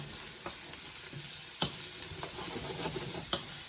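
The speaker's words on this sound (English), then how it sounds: "this has been about 5 minutes of saute for the onions" Onions sautéing in a pan over the stove, a steady close sizzle with scattered scraping clicks of a utensil stirring through them, no voices.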